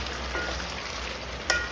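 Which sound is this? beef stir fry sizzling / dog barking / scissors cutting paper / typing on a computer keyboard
beef stir fry sizzling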